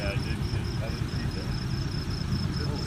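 A tractor engine's exhaust chugs steadily near at hand, a continuous low rumble with a faint regular ticking pulse above it, running without a break while people talk.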